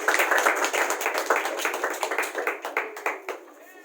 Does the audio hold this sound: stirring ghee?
no